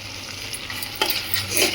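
Spices with chili powder, green chilies and coriander powder stirred and fried in oil for Andhra-style egg pulusu: a close, steady sizzle with quick scraping strokes of a ladle against the pan.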